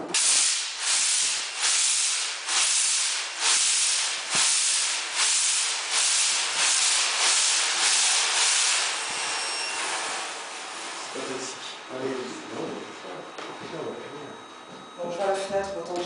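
A UR FOG fog generator fires with a loud, rhythmic pulsing hiss of jetting fog for about ten seconds, then fades to a softer, steadier hiss as a person talks and moves nearby.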